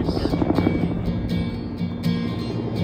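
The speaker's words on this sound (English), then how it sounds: "The helicopter just landed." A helicopter landing throbs close and loud, its rotor chop pulsing in a steady rhythm over a constant heavy engine roar, with no voices.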